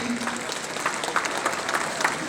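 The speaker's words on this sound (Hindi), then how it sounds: "जोरदार तालियां।" A crowd at an event in Talkatora Stadium, New Delhi, applauds in a brief, even wash of clapping from many hands, moderately loud and unbroken.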